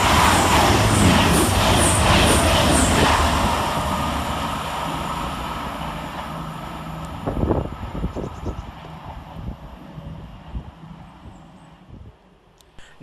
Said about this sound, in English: Coming fast through for Cros Country is 220024 and 221135